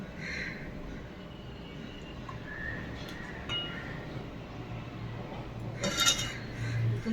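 Utensils clinking against a serving plate while misal is served, light scattered clinks over a low kitchen background hum with a brief sharper clatter toward the end.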